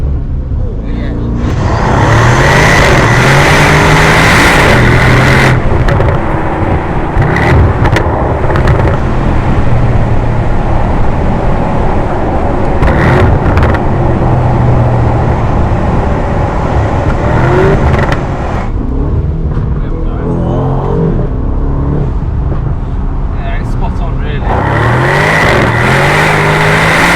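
Aston Martin DB12 Volante V8 fitted with a QuickSilver exhaust upgrade, revving loudly and continuously in long rising and falling surges, heard up close from inside the car with occasional voices over it.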